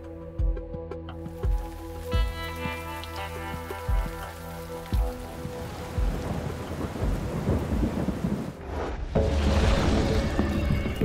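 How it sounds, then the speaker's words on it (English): Steady rain patters on surfaces while low thunder rumbles and booms repeatedly, the downpour swelling louder toward the end, heard on a fishing trip in Alberta. "That's rain."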